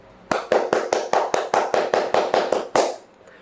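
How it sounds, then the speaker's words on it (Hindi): One person clapping hands alone, about eleven sharp, evenly spaced claps in a quick steady rhythm, close and loud, ending on a slightly stronger final clap. "सबसे पहले मैं आप सभी के लिए ताली बजाना चाहूँगा"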